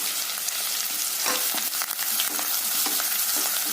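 Chopped onion and curry leaves sautéing in oil for a carrot beans poriyal, a loud, dense sizzle with repeated spatula scrapes and stirring knocks, close up and without voices.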